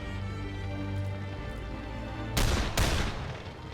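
Gunshots ring out in the video game The Lamplighters League: two sharp cracks in quick succession late in the moment, over a low steady background tone.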